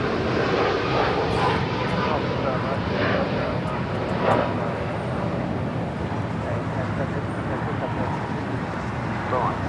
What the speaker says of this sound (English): Now rolling is United 1897 headed out to Chicago.